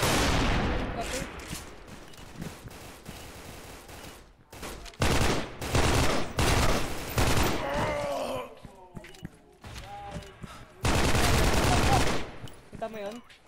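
Rapid bursts of automatic gunfire and explosions come from a competitive shooter video game, loud clustered volleys broken by short quieter gaps, with faint game effects between them.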